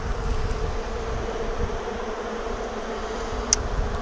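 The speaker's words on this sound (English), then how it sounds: "Notice how the bees really changed their tone when I added a bit of smoke to the hive" Honey bees in a balcony hive after smoking give off a steady, soft droning buzz that stays even throughout, with a couple of faint brief clicks.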